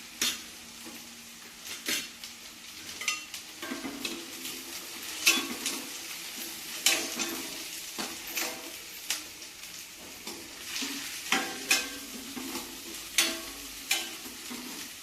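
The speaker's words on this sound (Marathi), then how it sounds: "भोपळा मिरची पण टाक. एकदाच फ्राय करून घे सगळा." Green beans, spring onion and bell pepper frying together in a pan over low gas, with a steady sizzle broken by repeated clanks and scrapes of a spoon stirring against the pan.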